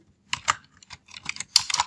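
Rapid keystrokes on a computer keyboard typing out a sentence, arriving in short uneven bursts with brief pauses, close and fairly quiet with no voices.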